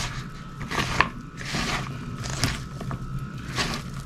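Pakora batter made with gram flour (besan) is stirred in a bowl: soft, rhythmic scraping and squelching strokes repeat every second or so, quiet and close, with no talking.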